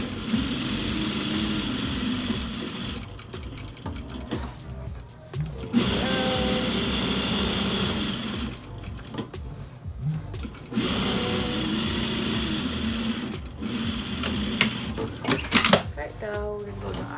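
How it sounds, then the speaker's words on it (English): Sewing machine top stitching along the serged edge of a fabric face mask, running in several bursts with short pauses, close and steady whirring while a person talks. "And I just go right along the serging when I'm sewing it down."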